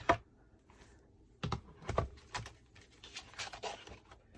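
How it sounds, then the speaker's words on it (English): Stampin' Up Cut & Emboss machine being hand-cranked with an embossing folder and cutting plates, producing a series of faint, irregular clicks and soft knocks, quiet and close. "I'm going to place my second cutting plate on top, give it a little push into the beginning, and then just start cranking"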